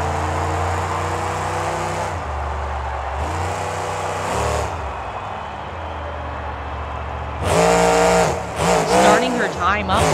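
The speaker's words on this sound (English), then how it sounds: "Now it's time for Christina Anderson and the Gravedigger truck to come up for" Grave Digger monster truck driven by Christina Anderson in a Monster Jam freestyle run, engine roaring loudly and steadily with rising surges and a burst of revving near the end, a crowd and announcer voice running underneath.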